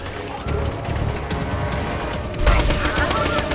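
Eisenheimer gun from Borderlands 2 firing in sustained rapid bursts, loud and dense throughout, swelling into a heavier crash of fire near the end with game effects mixed in.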